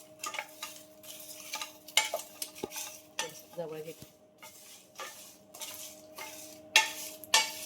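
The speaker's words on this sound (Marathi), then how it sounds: "तर एकदम मंद आचेवर आपल्याला हा मसाला जो आहे पूर्ण तो भाजून घ्यायचा आहे" Mutton masala spices dry roasting in a pan over a low flame, with repeated scraping and stirring strokes of a spatula, soft intermittent scuffs and a few light metallic taps, close and with no talk.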